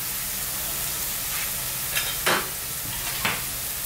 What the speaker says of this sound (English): Just going to add now that soy sauce and Worcester sauce mix,